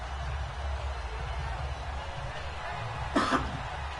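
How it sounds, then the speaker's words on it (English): A sports commentator calling a football game coughs briefly near the close, a short close burst rising over a steady background of crowd and broadcast murmur. "if you hear me coughing a little bit"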